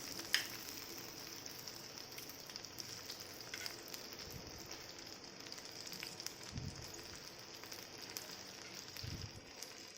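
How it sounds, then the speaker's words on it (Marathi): Stuffed okra (bhindi) frying in shallow oil, a steady soft sizzle with occasional light spatters and a few low thumps as pieces are turned, moderately close and without talk. "हे उलटताना फक्त शिस्तीत उलटायचे पण तेल पण उडतं आहे थोडंसं"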